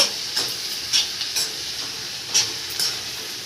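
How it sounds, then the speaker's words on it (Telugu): Prawns and onions sizzle steadily in a hot pan while being stirred, with a continuous frying hiss broken by repeated scraping strokes of the spoon, close and fairly loud. "ఇప్పుడు రొయ్యలు ఆనియన్ అనేది మనం బాగా ఇలా కలిపేద్దాము"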